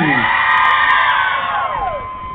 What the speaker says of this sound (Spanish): grito de las mujeres solteras